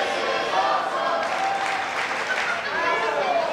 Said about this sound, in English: I hear the crowd come alive here.